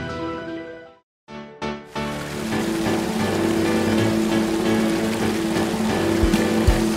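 Water runs through small toy water mills in a steady, soft rushing hiss after a couple of brief thumps, continuing evenly without any talk.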